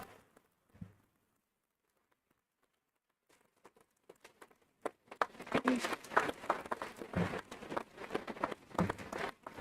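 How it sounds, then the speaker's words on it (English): Dense applause from a crowd at a high school commencement ceremony swells up after a few seconds of near silence and keeps going, broad and sustained. "let's give them a warm welcome and a round of applause"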